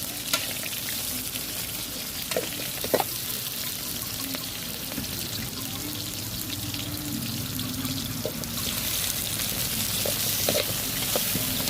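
Garlic, onion and tomato sauté in a pan for sinigang na tilapia, giving a steady close sizzle with a few sharp clinks and scrapes of stirring, swelling slightly louder toward the end.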